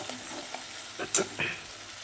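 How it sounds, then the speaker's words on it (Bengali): Spice masala paste fries in oil in a pan for a potato aloo dum, with quiet sizzling and a few sharp stirring clicks and scrapes of a spatula against the pan; no voices. "ভালো করে নাড়াচাড়া করে নেবো মশলাটা খুব ভালো করে নিয়ে নেবো যতক্ষণ না এতে গা থেকে তেল বেরিয়ে যায়"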